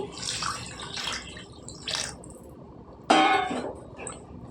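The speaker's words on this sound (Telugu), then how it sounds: "నీళ్ళు వేసుకుందామండి." Water is poured from a vessel into a pot of chicken wing curry with green chillies, a few splashy gushes followed by one louder, closer pour.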